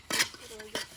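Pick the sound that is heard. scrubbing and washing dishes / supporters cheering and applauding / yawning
scrubbing and washing dishes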